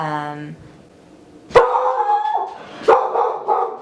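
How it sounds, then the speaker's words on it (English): Dogs barking in a few loud, close bursts with harmonic yelps, following a brief vocal-like tone, with quiet gaps between the barks. "speaking of the dogs that were barking"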